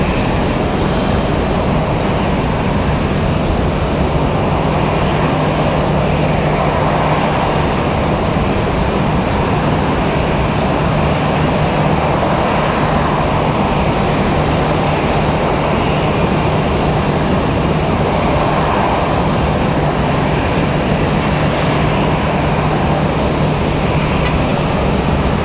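A United Boeing 737-700 jet at Raleigh-Durham airport gives a loud, steady engine roar that lasts the whole time, with no talk over it.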